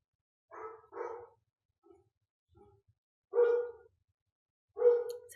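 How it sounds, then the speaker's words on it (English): A big yellow Labrador barking downstairs, several deep barks in pairs and singles with short gaps, heard indoors at a moderate distance against a quiet room. "Sorry for the dog barking."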